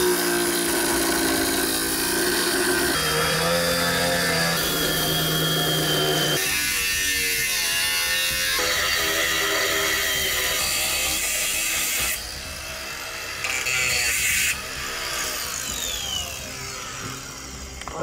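Angle grinder cutting into a steel safe, a harsh, loud high-pitched grinding whine that shifts in pitch and intensity as the cut progresses, with brief drops in level, no speech.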